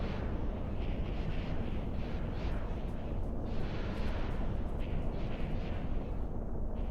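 A missile impact explosion in the Star Wars Interworlds video game, heard as a sustained, heavy roaring rumble with dense low-end boom that persists loudly throughout, no talk.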